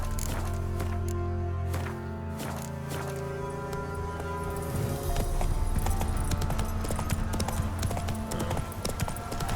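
Geralt's horse Roach trotting in Witcher 3, steady clip-clop hoofbeats under game music, growing busier and slightly louder in the second half.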